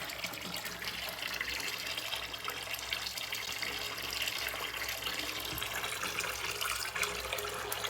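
A hot water tap runs steadily into a sink and drains away, a continuous broadband splashing rush that stays even and close throughout with no voices.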